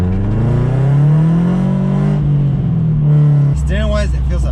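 Car fitted with a Cusco strut tower bar, Master Cylinder brace and engine room brace, driving with a loud, steady engine drone whose pitch rises and then eases, with a voice over it.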